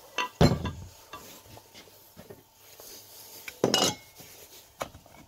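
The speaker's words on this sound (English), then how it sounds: "Next we'll put the fan guard back on" A metal fan guard being fitted back onto an IEC electric motor, with a few sharp metallic clanks and lighter clinks and taps spread through otherwise quiet handling.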